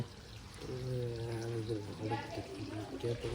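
Water pours steadily from a broken pipe, a constant rushing in the background while a person talks over it close by.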